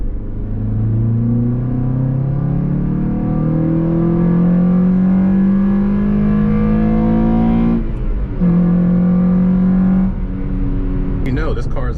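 BMW X5 M with a 600+ hp engine accelerating hard, a loud, rising engine roar climbing through gears with a brief shift break near the end, heard from inside the cabin.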